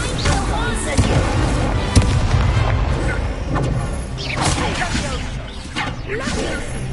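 A fire spell cast in a Hogwarts video game bursts out as loud, crackling, booming flares with rushing whooshes, over a busy background with voices talking throughout.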